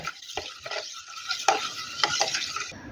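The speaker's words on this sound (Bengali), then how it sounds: "এবার ভালো করে মিশ্রণটাকে মিশিয়ে নেব" A spoon stirs wood apple sherbet mixed with cane jaggery, scraping and clinking against the vessel in a steady series of strokes with no voices.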